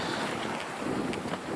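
Wind and heavy swell at sea aboard a Bavaria 30 cruising sailboat in open water, a continuous loud roar of gusting wind buffeting the microphone over rushing water, with no voices.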